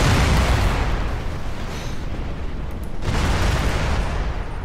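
Missile volleys from an LRM Osiris and a Nighthawk mech in a sci-fi battle game, a dense continuous roar of launches and blasts that swells again toward the end, with no talk over it.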